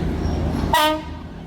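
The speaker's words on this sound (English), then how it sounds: "here comes the train" A train horn sounds briefly and loudly over a steady rumble of a train crossing a bridge over the River Kwai, then fades as the rolling noise continues.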